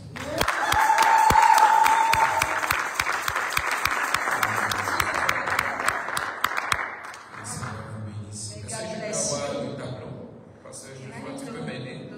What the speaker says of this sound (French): J'ai dit acclame Jésus